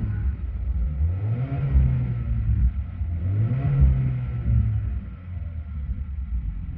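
A car's exhaust note through a stock resonator and an aftermarket end can, a low, smooth rumble that swells and eases as the engine revs up and settles, fairly close and with no talking.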